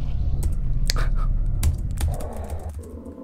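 Rapid tapping on a computer keyboard during a game, a dense run of close, loud clicks over a low background hum, thinning out in the final second.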